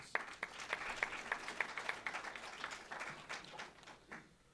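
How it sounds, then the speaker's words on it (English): Audience round of applause at a university football coach press conference, distinct individual claps building into a crowd, then fading out near the end. "Would you please give him a round of applause?"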